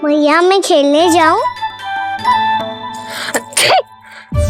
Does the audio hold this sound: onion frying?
no